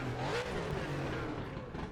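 Race car engine in the RaceRoom racing game roaring loudly and continuously at high revs, a dense, steady drone that fills the whole moment with no voice over it.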